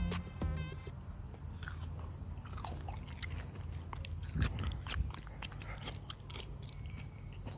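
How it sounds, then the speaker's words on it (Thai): Close, crisp biting and chewing of Ngoh Nam Tan Kruat rambutan, a dry-fleshed variety, with repeated crunchy bites and wet mastication in an irregular rhythm, loud and near with no talking. "เดี๋ยวจะลองเคี้ยวให้ดูนะครับ"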